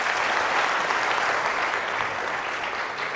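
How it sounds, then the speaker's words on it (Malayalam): Sustained, dense applause from a congregation at a night vigil honours the singing group, a loud, even wash of clapping lasting the whole stretch without a break. "ബിനുവിനും ഗായക സംഘത്തിനെല്ലാം പ്രത്യേകം ഒരു കൈയടി കൊടുത്ത്"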